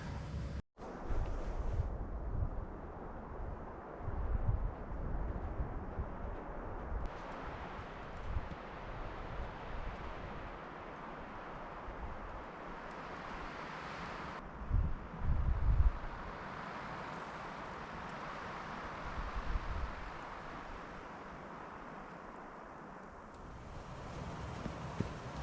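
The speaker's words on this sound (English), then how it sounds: "the wind is really kicking up and it's cold" Wind roars steadily around a tent camp during a snowstorm, a continuous rushing noise with occasional stronger gusts and buffeting thumps, moderately loud throughout.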